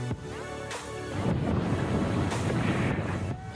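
Wind at a sheltered kitesurfing lagoon in Sri Lanka, buffeting the microphone in a loud, rumbling roar that swells after a quieter start and stays gusty, with a few brief thuds and no speech.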